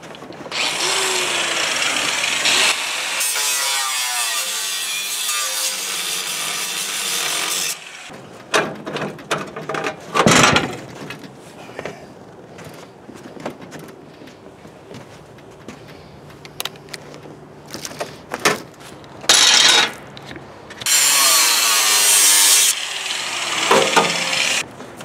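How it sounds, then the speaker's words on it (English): A power tool cutting bolts on the front bumper of a doodlebug vehicle, with long loud stretches of harsh grinding broken by clanks, rattles and metal knocks, close up and without talking. "So I already started cutting the bolts on the front bumper."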